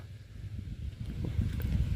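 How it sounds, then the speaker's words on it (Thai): Cool outdoor wind rumbles low and steady across the microphone for the whole stretch, swelling a little toward the end, with no voices over it. "บรรยากาศก็เย็นเย็นอยู่นี่พี่น้องลมพัดวอยวอยวีวี เย็นดีอยู่"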